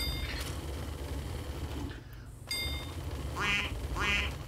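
Cartoonish ducks quacking in the video game Paperville Panic: two short, bright quacks near the end, set against busy, steady game background sound.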